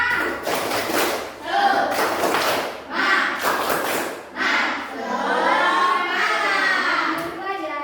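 A class does an Indonesian 'tepuk semangat' spirit clap, clapping in a rhythmic pattern of quick bursts, with children's voices chanting along and a sustained sung or shouted ending.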